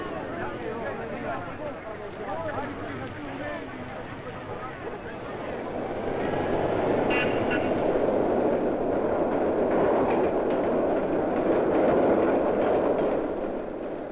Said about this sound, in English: trains go underground into subways and tunnels as they approach the crowded areas of the city